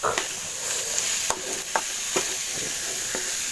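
Ground pork for Filipino pork giniling with peas sizzles steadily in a pan, close and fairly loud, while a spatula breaks it up with several sharp scraping strokes spaced irregularly over the hiss; no one speaks.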